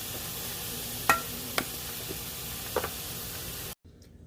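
Celery and onions saute with salt in a pan, giving a steady soft sizzle with a few sharp utensil clicks against the pan before the sound cuts off abruptly near the end.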